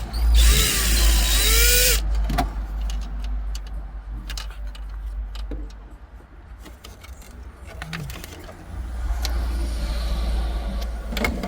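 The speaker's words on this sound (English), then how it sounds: "we're gonna remove those two torque screws and the pocket should come out" Power drill whirring at close range as it backs out Torx screws from interior trim on a 2014 BMW X1, two bursts of high-pitched motor whine separated by quieter handling clicks and rustling.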